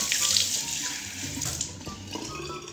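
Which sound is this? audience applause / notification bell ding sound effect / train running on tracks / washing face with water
washing face with water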